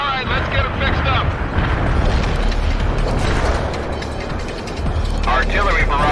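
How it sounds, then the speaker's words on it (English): Heavy engineers repair units on a World in Conflict battlefield, clanking mechanical ratcheting layered over a constant rumble of distant explosions, with voices cutting in near the start and again at the end. "Let's start those repairs."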